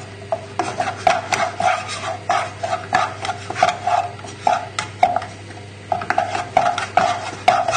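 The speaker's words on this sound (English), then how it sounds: "Next we just need to add in the butter and just stir that in." A knob of butter being stirred into a creamy fish pie filling, with rhythmic scraping and rubbing strokes of a spoon against the pan in a steady repeating pattern, close and without talk.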